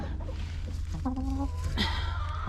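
A hen clucks while laying an egg in a backyard coop, a short series of close, soft nasal clucks over a constant low hum, with a brief brighter squawk toward the end.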